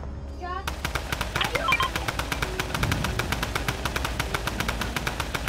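Rapid automatic gunfire rattles steadily in the Fortnite video game, loud, continuous and close, with a brief musical game cue at the start and a voice talking over the shots.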